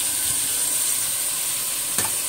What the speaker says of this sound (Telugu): పన్నీర్ అనేది కూడా వేసేస్తున్నాను